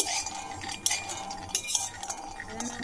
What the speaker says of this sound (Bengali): বাদামটা একটু ভালোভাবে ভেজে নেব